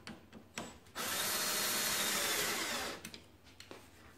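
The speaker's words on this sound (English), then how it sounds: "And then you just screw them in, not all the way tight." A power drill drives screws to fit cleats onto a snowmobile track, a steady close whir running about two seconds between quieter handling knocks.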